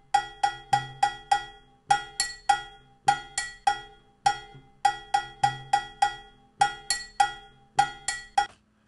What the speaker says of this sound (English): listen for how many different sounds this cowbell produces